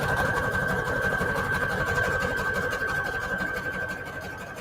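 A sewing machine runs continuously with a rapid mechanical whir and steady stitching rattle, holding a constant tone throughout.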